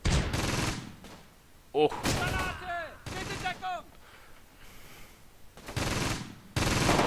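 Bursts of gunfire trade back and forth in a Close Combat battle near Caen, crackling in several clustered volleys between stretches of talk, with one short exclamation from a voice.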